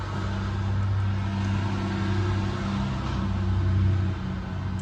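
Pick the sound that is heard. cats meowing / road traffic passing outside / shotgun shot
road traffic passing outside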